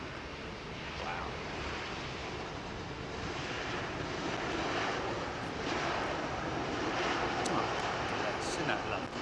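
An airliner lands on runway 27R at Heathrow without using thrust reversers, giving a steady, fairly quiet broadband roar mixed with wind noise that holds evenly throughout.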